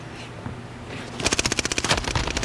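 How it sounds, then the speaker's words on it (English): Rapid automatic gunfire from the video game Call of Duty: Warzone Caldera breaks out after a quiet start, with loud, evenly spaced shots continuing to the end. "I don't even see who's shooting at me"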